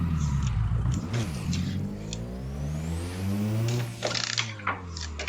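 A car engine on a race track revs up to a high redline, pitch climbing steadily through a long pull before a gear change and renewed acceleration, loud and close with no talk.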